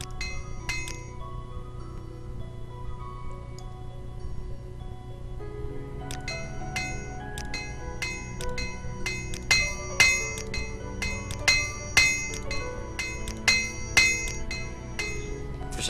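Equipment being repaired in Morrowind, a series of bright metallic hammer clinks and chimes, sparse at first and then coming in a quick rhythmic run of sharp strikes over a low background hum.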